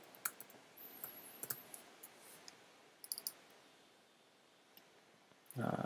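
A computer mouse clicks in sharp, isolated taps, a few single clicks and a quick cluster, close and quiet in an otherwise still room during software setup.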